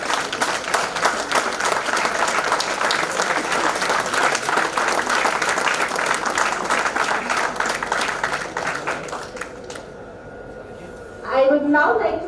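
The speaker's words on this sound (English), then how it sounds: "A big round of applause." Sustained audience applause fills a conference hall for about nine seconds, steady and dense, then fades away as a voice begins speaking near the end.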